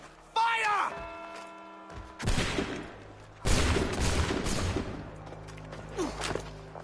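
Musket volleys from massed soldiers crack out in Assassin's Creed 3 Remastered, with one ragged burst and then a second, longer rolling fusillade after a shouted command. Game voices and clatter sit in between.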